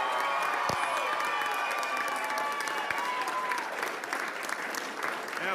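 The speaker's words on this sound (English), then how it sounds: "keep the applause coming" A crowd at an election night speech keeps up steady applause with scattered cheers, loud and continuous, a few sharp claps and shouts standing out.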